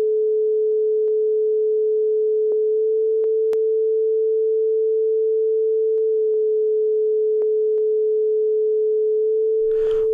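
A continuous pure 432 Hz tuning tone sounds steadily for about ten seconds, a touch lower than concert A, with faint clicks and a brief noisy burst at the end.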